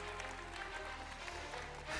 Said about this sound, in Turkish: Alkışlıyoruz beslenme ve diyetik bölümü öğrencilerimizi